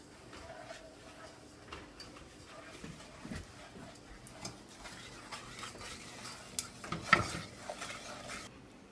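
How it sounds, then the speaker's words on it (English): A candy mixture for black jack sweets is stirred in a pot on the stove, with faint scraping and soft ticking of the spoon against the pot, quiet and irregular throughout. "you're going to want to stir everything together"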